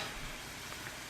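Ghee hitting cabbage cooking in a pan gives a steady, fairly quiet hiss-like sizzle that holds evenly for about a second with no voices over it.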